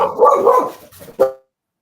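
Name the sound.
dog barking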